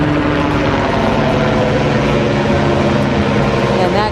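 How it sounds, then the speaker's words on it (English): Presidential helicopters approach to land, a loud, steady, continuous rotor and engine roar that fills the whole stretch without letting up. "again, we can hear the helicopters coming in"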